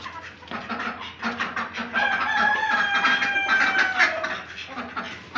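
Fancy hens and roosters on a farm in Pakistan, kept alongside ducks, cluck close by. A rooster gives a long, clear crow in the middle as the busy chatter of the flock continues around it.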